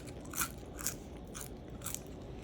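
Extra-crispy homemade french fries give four quiet, evenly spaced crisp crunches over a soft background hiss.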